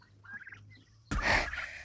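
Farm turkeys burst into loud, excited gobbling as they are let out, a sudden chorus after a quieter opening of scattered calls.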